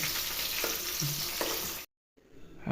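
Green chilies sizzle and fry steadily in hot oil in a pan for a tomato egg curry, a close continuous crackle with a few stirring knocks, cutting out abruptly to silence before the sizzle faintly returns.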